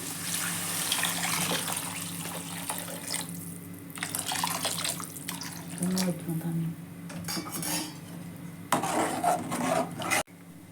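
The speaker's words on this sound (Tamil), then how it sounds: "இப்போ தண்ணி சேர்த்துக்கிறேன்." Water is poured into a pan of sweet corn and rice-button gravy seasoned with chili and coriander powder, a steady running splash over occasional clinks of utensils against cookware.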